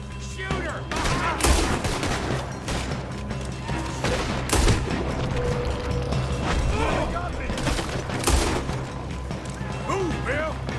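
A shootout in Red Dead Redemption 2, with rapid, overlapping gunshots from several guns and clattering mechanical noise, loud and continuous, while voices shout over the fire.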